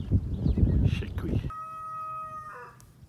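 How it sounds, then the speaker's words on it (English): A burst of close, muffled rustling and knocking gives way to a cockerel crowing clearly in the distance near the end, at a caravan park near Margate, Kent, by the sea. "Cockerel, we seem to have got a cockerel."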